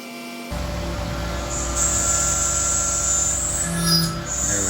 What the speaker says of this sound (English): So that's going to be full depth on this 1/4 inch end mill, 25 inches of feed.